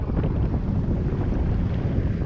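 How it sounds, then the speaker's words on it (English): A 2025 Yamaha JetBlaster Pro jet ski engine warms up, a loud, steady low rumble close to the microphone, mixed with wind buffeting and no change in pace over the short stretch. "I'm gonna let this thing warm up for a little bit."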